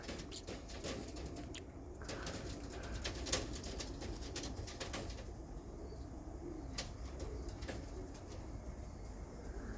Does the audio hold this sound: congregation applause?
no